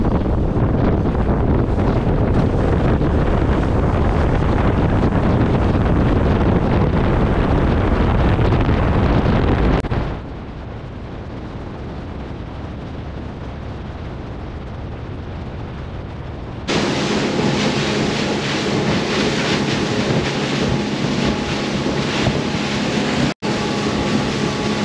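A boat speeds across open water offshore in the Florida Keys, its loud engine roar and rushing wind steady throughout, dropping briefly mid-way before a high-pitched whine joins the motor noise.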